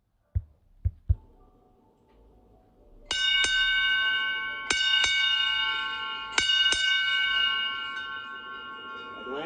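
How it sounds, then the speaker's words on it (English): A ship's bell aboard the International Space Station rings as space shuttle Atlantis departs, mission STS-135. A few dull taps come first, then paired bright metallic strikes repeat three times, each leaving a long ringing decay. "going to ring the bell for the last time"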